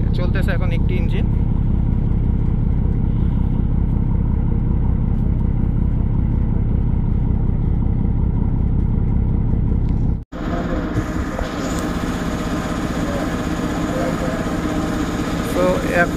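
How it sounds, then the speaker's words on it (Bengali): Engine of the Barishal passenger launch M Khan-7 running at medium speed, a steady loud low drone that shifts to a brighter, rougher tone partway through, with someone talking over it. "আর চলতেছে এখন একটি ইঞ্জিন।"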